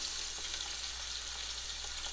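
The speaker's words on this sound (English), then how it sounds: "oh, you hear that?" Chicken sizzling in a Cosori multi cooker, a steady close hiss of frying that stays even and unbroken throughout with no voices.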